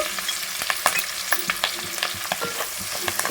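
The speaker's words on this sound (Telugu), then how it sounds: "అదే నూనెలోకి ఇప్పుడు ముందుగా సన్నగా కరిగి పెట్టుకున్న ఉల్లిపాయ ముక్కలు అయితే వేసేసుకోవాలి" Sliced onions, green chillies and curry leaves fry in hot oil, a close, steady sizzle broken by frequent crackles and spatters and light stirring sounds, with no voices.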